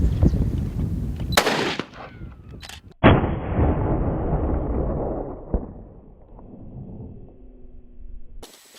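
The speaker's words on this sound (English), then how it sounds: "my wife Kathy, she's asking how far it is, and she's getting ready to take a shot" A hunting rifle fired on safari, with one sharp loud report that booms and fades, another heavy crack a moment later followed by a long rolling echo, plus a few softer knocks.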